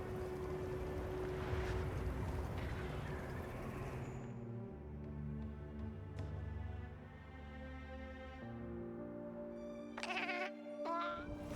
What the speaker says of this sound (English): Angry cat noises.